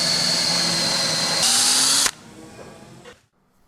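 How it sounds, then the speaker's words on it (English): A power drill pre-drills a small pilot hole in a wooden raft board, whining loudly and steadily for about two seconds before cutting off, followed by faint handling noises and quiet. "Here I'm pre-drilling a little hole so I can countersink a nice beefy stainless steel screw."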